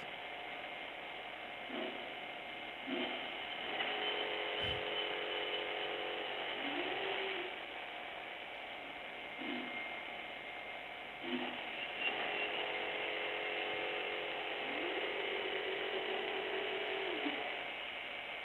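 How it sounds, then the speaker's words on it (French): A TRAPPIST telescope starts up, giving off steady mechanical whirring and ratcheting motor sounds over the continuous hum of its internal compressor, with drive movements repeating in bursts throughout. "Et puis, là, on entend TRAPPIST qui démarre."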